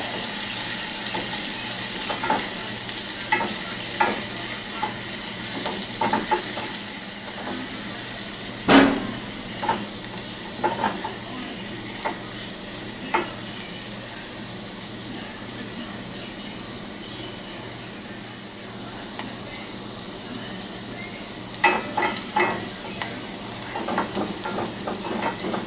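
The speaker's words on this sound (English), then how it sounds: "Got my heat kind of high because I want that garlic to brown" Garlic browning in a hot pan over fairly high heat, a steady close sizzle with scattered clatters of a utensil against the pan, no talking.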